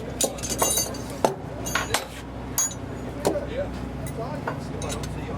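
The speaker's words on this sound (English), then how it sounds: "So now with just a couple of 3/4 inch wrenches, we're going to swap out the fixed end on this" A couple of 3/4 inch wrenches clink as the fixed end of a tie-down strap is swapped, giving a handful of sharp, bright metallic taps spread over a few seconds against steady background noise.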